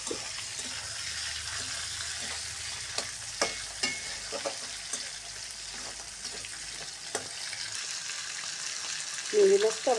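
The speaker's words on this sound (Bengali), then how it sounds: "চিংড়ি মাছটা দিয়ে একটু ভেজে দেবো।" Shrimp fry in hot oil with browned onion, giving a steady sizzle and intermittent scraping clicks from stirring; a voice speaks faintly near the end.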